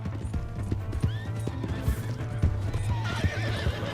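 Horse hooves clip-clop steadily while a horse neighs and whinnies, over a busy Red Dead Redemption 2 game soundscape with a low droning hum.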